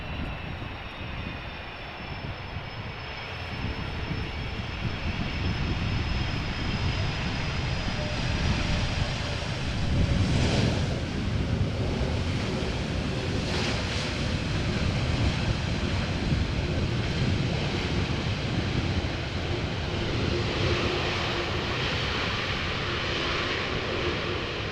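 Steady, loud roar of a nine-year-old airliner's engines just after landing at Amsterdam Schiphol Airport, a continuous broadband rumble and whine that swells slightly midway with no talking.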